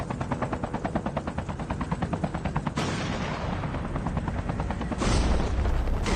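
A helicopter's rapid rotor chop fills a COD Mobile battle royale match, overlaid with bursts of gunfire and booms, loud and continuous with shifting intensity.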